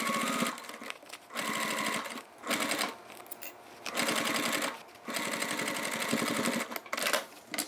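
A sewing machine topstitches along a toiletry bag in repeated short runs, the motor whirring up and stopping several times in quick succession, close and steady.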